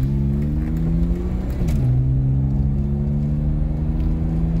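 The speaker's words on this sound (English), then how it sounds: "take a test drive my Mercedes G-Wagon Brabus" A Mercedes G-Wagon Brabus G300 with a 3.6 engine on a test drive, its droning engine tones rising, then dropping with a gear change before settling into a steady, close hum.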